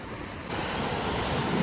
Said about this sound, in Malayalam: അതാ വലിയ തിരമാലായിരുന്നു, അത് ഇവിടെ എത്തുമ്പോ ചെറുതാവും